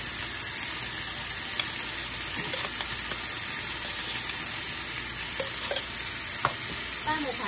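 Shredded chicken stir-fried with mushrooms and bamboo shoots in a hot pan: a loud, constant hiss of frying with scattered clicks of stirring, steady throughout and free of voices.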